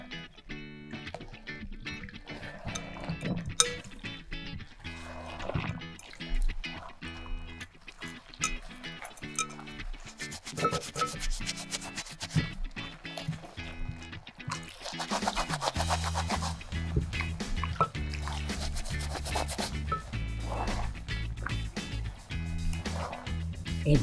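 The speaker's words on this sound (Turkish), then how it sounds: "Evet, güzelce çitiledim." Baby doll clothes are scrubbed by hand in detergent water, with continuous wet squishing, rubbing and sloshing close up in irregular bursts.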